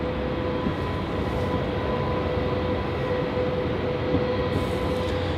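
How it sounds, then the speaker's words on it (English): Qantas Link Dash 8 Q300 turboprop arriving at Melbourne Airport: a steady, loud, broadband engine roar with a faint whine, continuous throughout and with no talking. "Coming in now is Qantas Link Flight QF 2077 from Mildura. This is a Dash 8 Q300."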